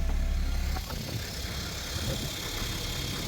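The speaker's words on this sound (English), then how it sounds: "Now I know it's a diesel, but I'll stick my phone out there so you can hear it as I undo the window." A diesel car engine runs steadily outside an opening window, giving a continuous low rumble under broad rushing air noise that drops slightly as the window opens.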